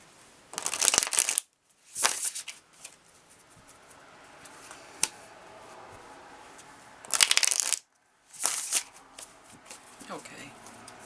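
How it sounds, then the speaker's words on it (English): A deck of tarot cards being shuffled by hand, four loud riffling bursts separated by quieter handling and soft rustling, close up. "I'll have to shuffle again."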